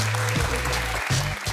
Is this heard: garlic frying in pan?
no